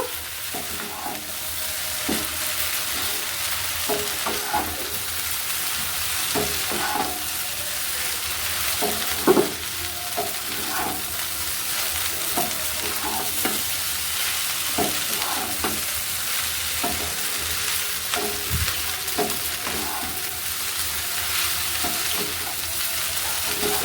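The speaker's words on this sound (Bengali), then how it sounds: "একটু গরম মশলা গুঁড়ি দিয়ে দেব, সবকিছু দিয়ে আবারও খুব ভালো করে মিশিয়ে নেব।" Egg masala pasta with garam masala is stirred in a sizzling pan, a constant frying hiss broken by repeated spatula scrapes and taps at an uneven rhythm, close and without any voices.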